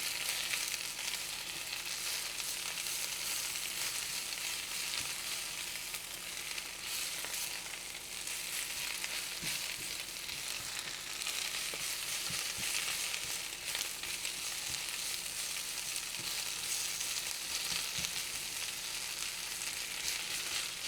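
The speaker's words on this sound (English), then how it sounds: "While it's getting cooked, give a nice good stir," Spinach sizzles and fries in a pan while being stirred, a steady close hiss of crackling with faint scraping throughout and no voices.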